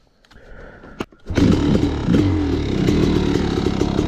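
Kawasaki KX500 two-stroke dirt bike engine kicked over and firing up: quiet clicks and a sharp knock, then the engine catches and runs loud and raspy at a steady, slightly rough idle close by.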